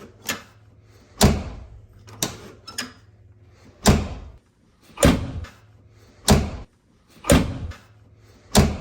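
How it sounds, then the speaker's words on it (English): Rear passenger door of a car fitted with sound deadening material, closed repeatedly: eight solid thuds at a steady rhythm, close and fairly loud, with a faint low engine hum between them. "This is the rear passenger door with sound deadening."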